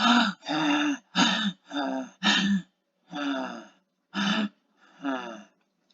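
A voice imitates agonal gasping breathing in a first-aid lesson on basic life support: eight short, strained gasps in a halting rhythm, close and fairly loud, separated by brief silences.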